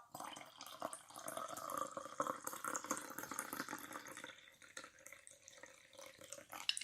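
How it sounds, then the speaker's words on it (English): Tea poured from a pot into a cup, a continuous splashy liquid stream with dripping and trickling texture, close and fairly loud, tapering off toward the end. "Shall I pour you some more tea?"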